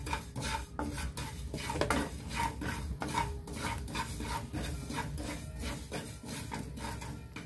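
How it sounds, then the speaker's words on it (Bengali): Whole coriander seeds stirred and scraped in a pan while dry-roasting a spice mix for aloo dum, a steady run of soft rhythmic scrapes and light metallic clinks, fairly close and quiet, with no voices. "এটাকে হালকা করে নেড়ে"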